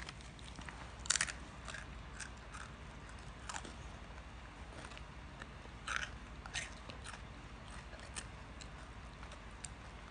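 A child chewing and crunching kale, with sporadic crisp bites and crackles over a low background hum; no talking.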